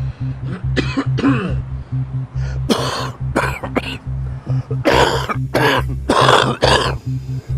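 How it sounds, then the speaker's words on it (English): A man coughs rapidly and harshly in repeated rough bursts, close and loud over a low droning background, with short pauses between the fits. "He spits out blood, then begins to cough rapidly."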